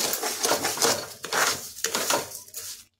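Amla being stirred with sugar in a wok, giving repeated scraping and clinking of a spoon against the metal pan, steady and close, with no talk.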